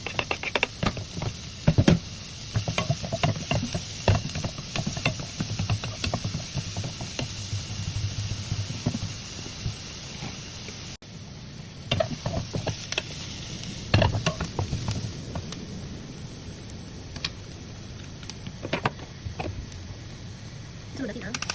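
Garlic and onion sauté in a pan with an uneven sizzle. Stirring scrapes and sharp utensil knocks come and go, and a voice is present at times.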